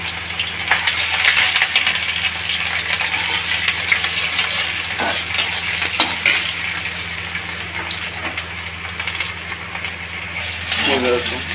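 Chopped onion for veg masala momos is stir-fried in oil with a dense continuous sizzle and occasional scraping of a spatula, close and loud, while a voice speaks briefly near the end.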